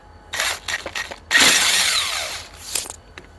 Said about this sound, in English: This is what actually pulls the flywheel off.